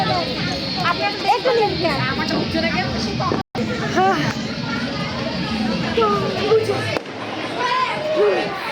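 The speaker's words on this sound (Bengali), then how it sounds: "ছাদে পটকা ফাটে, এটাই সবচেয়ে মজা লাগে।" Firecrackers burst on a rooftop during a New Year celebration, with repeated bangs and crackles over continuous crowd and children's chatter, people talking nearby throughout.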